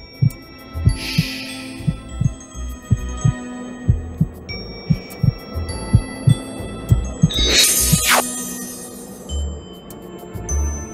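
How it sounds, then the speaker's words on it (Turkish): Heartbeat sound effect in a Turkish sitcom scene: a steady, fairly loud thumping pulse repeating about once a second throughout, with faint ringing chime tones above it. "O duyduğun kalp atışları aşktan maçtan değil, öfkeden."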